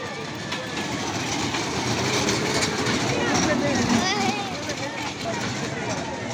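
Small toy-style fairground ride train running at a crowded Indian village fair, a steady rumbling and clattering mixed into loud crowd babble, with occasional higher squeaks and whistling tones over the continuous hubbub.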